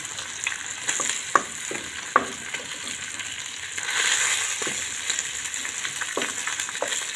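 Steady crackling sizzle of cod frying with ginger in hot oil, with occasional sharp pops and spatters over a constant hiss.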